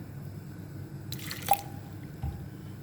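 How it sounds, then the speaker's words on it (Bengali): Water is poured over chopped raw potatoes with garlic, ginger and green chilies for semolina potato fritters, a brief splashing pour followed by a single clear drip and a small thud, close and fairly quiet. "একটু পানি দিয়ে দিলাম"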